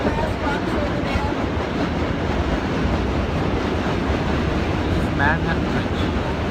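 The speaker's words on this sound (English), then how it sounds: "That's the subway train going over the bridge." Subway train rumbling across the Manhattan Bridge in New York, a steady loud roar of wheels and rails filling the whole stretch, with people talking over it.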